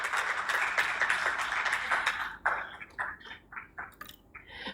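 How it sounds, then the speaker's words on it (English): Audience applause for panelists at a Tanzanian government and World Bank launch event, dense clapping for about two seconds, then thinning into scattered individual claps as it dies away. "A round of applause, please, for our panelists."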